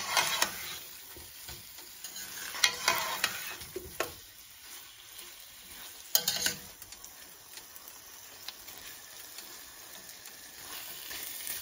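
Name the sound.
stirring arvi (taro) bhujia in a pan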